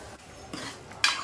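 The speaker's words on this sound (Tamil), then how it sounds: "கடுகு பொரிச்சது கறியை போடணும்." Country chicken fries in a pan with mustard seeds and spices, giving a quiet sizzle, a couple of light stirring scrapes and a sharp utensil clink near the end, with no talk.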